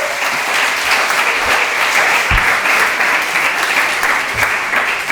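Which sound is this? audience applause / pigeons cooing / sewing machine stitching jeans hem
audience applause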